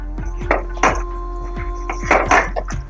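Kewra-flavoured chicken biryani meat being stirred in a metal pot, with repeated clinks and scrapes of a spoon against the pot at an irregular pace, close and fairly loud over a steady low hum.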